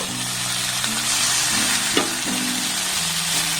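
Boiled potato and peas being stirred in a pan over a low flame give a steady, close sizzle with a few soft scraping knocks of the spoon; no one speaks.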